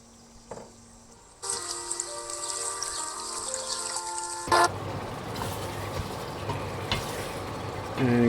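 Potatoes tipped into a frying king prawn curry, a bright hiss of sizzling oil rising suddenly and holding steady, then a scrape of stirring with a thick bubbling texture and clinks of a utensil.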